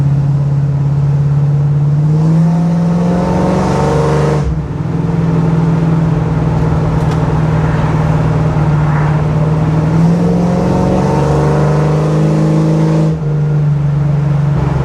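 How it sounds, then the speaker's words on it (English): A deep, steady V8 exhaust burble hums from inside the cabin of a 1979 Camaro Z28, swelling as it revs in two stretches, muffled and fairly tame, with no talking. "The exhaust honestly isn't super bad on the inside. Like it's pretty tame."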